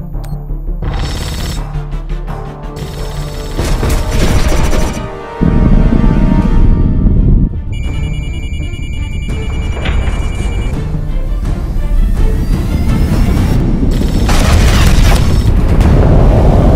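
Torpedo explosions in The Expanse video game, deep heavy booms rumbling loudly across the stretch, with a sudden surge midway and a sustained low roar after, layered with game sounds.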